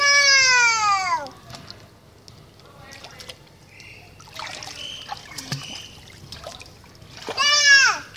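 A 15-month-old toddler splashes and kicks in a pool, with intermittent splashing and trickling water close by, broken by high-pitched baby cries and an adult voice talking.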